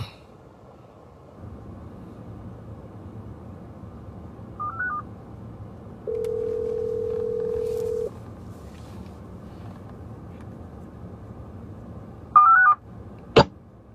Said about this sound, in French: Ils ont relancé l'appel.